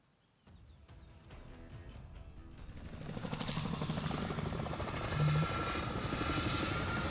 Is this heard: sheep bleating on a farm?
no